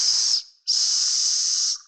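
A human voice makes the sibilant hiss of the Arabic letter sin, two sharp, steady hisses close up, the first short and the second longer, imitating a hissing sound.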